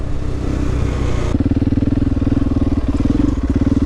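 A Postie bike motorcycle engine thrums steadily while riding, a close, loud, pulsing single-cylinder putter that grows more pronounced and rhythmic partway through, with no talking over it.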